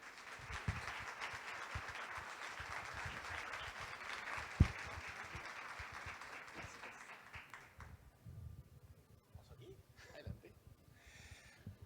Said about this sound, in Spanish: Así que recibimos con un fuerte aplauso a Roberto Zuckerman.